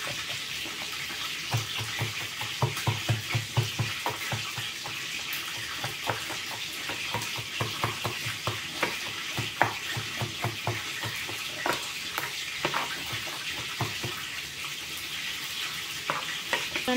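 Chicken wings fry in oil with a continuous bubbling hiss and crackle, joined by intermittent stirring clinks and scrapes. No one speaks.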